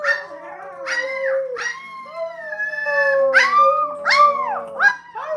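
A puppy howls close by in a series of about six rising and falling wavering cries, with short gaps between them and no talking.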